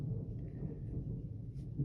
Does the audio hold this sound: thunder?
yes